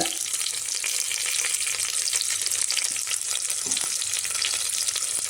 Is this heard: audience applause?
no